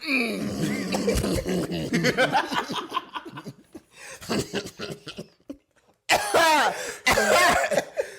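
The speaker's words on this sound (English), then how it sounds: "I heard the cough over there." Several sharp coughs erupt amid laughter and chuckling from a small group during a podcast conversation, with throat clearing between bursts.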